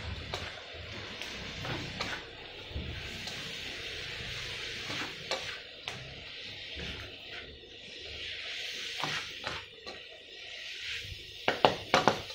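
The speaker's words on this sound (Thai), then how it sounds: "หมูครับผัดเลย" Pork belly with lemongrass stir-fried in a pan: a continuous sizzle under repeated scraping and clacking stirring strokes, close by, with a burst of sharper knocks near the end.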